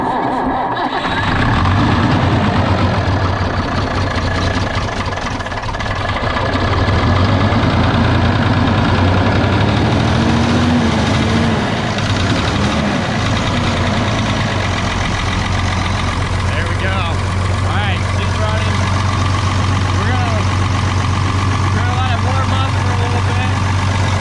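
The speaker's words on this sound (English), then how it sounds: "this tractor, she likes the ether, and she's about dead." A tractor's diesel engine runs steadily after an ether start, a loud low rumble with a constant idle throb, while a person talks over it.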